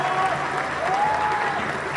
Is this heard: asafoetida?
no